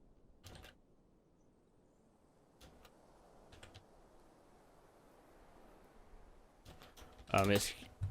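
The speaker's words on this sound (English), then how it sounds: "I'm being quiet there while I'm typing" Computer keyboard typing comes in scattered short clicks and small bursts, faint against a quiet room, followed by a louder burst of sound near the end.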